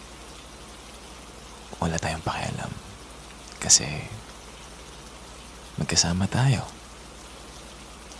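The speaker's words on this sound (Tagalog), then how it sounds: "halos hindi na makita ang labas dahil sa lakas ng ulan" Steady heavy rain hisses softly and evenly throughout, while a close, quiet voice talks in short bursts over it.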